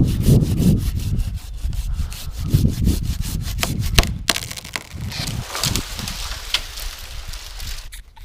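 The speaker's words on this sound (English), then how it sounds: "So I'm going to finish with my hand saw, although it's a bigger cut." A hand saw cutting through a large tree limb, rapid rhythmic rasping strokes close up, steady back-and-forth bursts slowing slightly toward the end of the cut.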